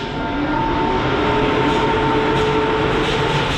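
Gitanjali Express hauled by Indian Railways WAP-7 electric locomotive 37002 on the Mumbai–Howrah route: a steady, loud rumble of the moving train with faint tonal whine running throughout, no talking.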